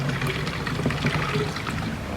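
Water pours and trickles steadily, a continuous splashing gurgle close by with no voices.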